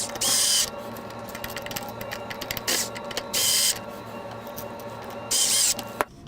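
Unflanged screws are tightened into a rear motor platform assembly, giving mechanical ratcheting and creaking with three louder bursts of hissing, whirring tool noise, close and steady, with no talking.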